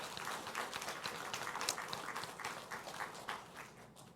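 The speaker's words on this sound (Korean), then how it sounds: "우리 박수로 한번 축복해 주시면 좋겠습니다" A church congregation applauds during a worship service, a dense, steady patter of many hands clapping that fills the whole stretch at a moderate distance.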